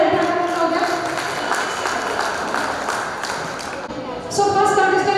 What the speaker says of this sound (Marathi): या छोट्या विद्यार्थ्यांसाठी एकदा परत जोरात टाळ्या वाजवा.